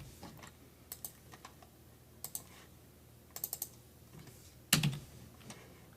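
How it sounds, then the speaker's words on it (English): Short bursts of typing on a computer keyboard, quiet clustered key clicks separated by pauses, ending with one louder thump. "I'm just going to type in hello"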